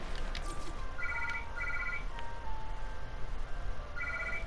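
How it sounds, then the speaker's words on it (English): A telephone rings in an arena video game, sounding as short trilling bursts repeated three times over steady background game noise. "That's just the phone"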